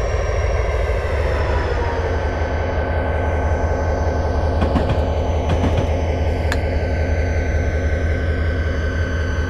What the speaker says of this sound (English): controlling this train down the Cascades is going to be downright scary because those grades are steep